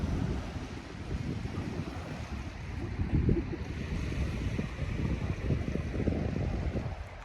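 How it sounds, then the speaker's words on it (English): Waves wash onto a nearly deserted evening beach on the Quebec coast facing Prince Edward Island, a continuous low rumbling surf heavily mixed with gusty wind buffeting the microphone. "But a nearly deserted beach"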